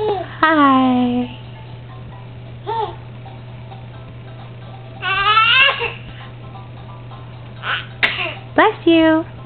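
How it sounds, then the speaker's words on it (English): Small child sneezing during bouncing play, with a loud burst partway through among squeals and babbling vocal sounds; a steady low hum runs underneath. "that was a big sneeze."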